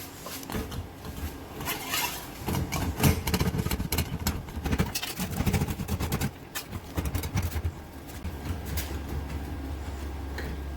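A metal body panel for a 1913 Duesenberg cyclekart rolls back and forth through an English wheel, giving a continuous uneven rumble with irregular lumpy bumps and clicks over a low mechanical drone, close and steady without speech.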